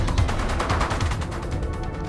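Dense, continuous gunfire from a shotgun battle in a video game, rapid overlapping blasts and crashes packed tightly together at steady loudness with no gaps.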